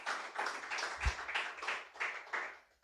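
A church congregation claps in a quick, even rhythm, a series of faint, somewhat distant hand claps running through the short stretch.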